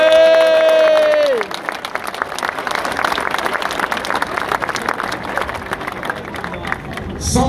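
A crowd in the square outside Martigues city hall applauds young FC Martigues football players celebrating promotion to Ligue 2, with steady, dense clapping and some cheering after a short sustained horn-like tone at the start.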